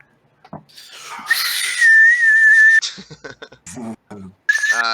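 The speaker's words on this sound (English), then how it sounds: "So everyone can hear the whistle blowing." A whistle blown during a tabletop fantasy game session gives a sustained, steady shrill tone of about a second, then a second brief blast, amid laughter and lively table chatter.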